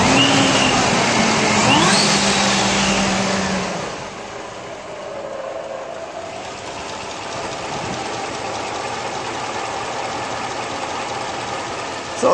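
An engine fitted with Comp Cams Evolution lifters idling after a run-in, a steady close running drone that eases slightly after a brief higher-revving stretch at the start.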